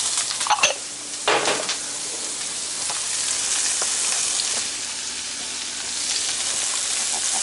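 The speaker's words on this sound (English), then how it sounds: "we're going to toss some onions around in there" Onions sizzle and crackle loudly in a hot Blacklock cast-iron skillet with burger, with a few sharp scraping and stirring clatters near the start.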